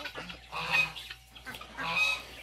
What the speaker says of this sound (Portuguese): Esse barulho, pessoal, quem faz é somente as gansas fêmeas.